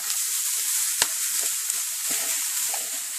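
Cauliflower rice and jalapenos sizzling in a hot frying pan, a close, steady crackling hiss with faint stirring scrapes and small pops throughout.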